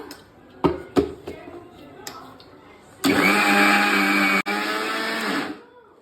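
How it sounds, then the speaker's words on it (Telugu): A few knocks and taps, then a mixer grinder whirs loudly for about two and a half seconds, blending chapati dough with water, briefly cutting out midway before stopping. "ఇట్లా ఒక ఫార్టీ ఫైవ్ సెకండ్స్ మిక్సీకి వేసేయాలా"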